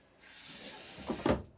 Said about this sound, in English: it has this kind of floating drawer